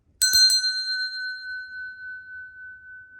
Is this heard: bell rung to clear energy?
yes